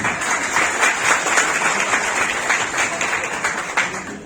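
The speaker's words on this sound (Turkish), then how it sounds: "Damat bey de alkışlıyoruz." Steady applause from a wedding crowd for the groom, many hands clapping continuously for a few seconds.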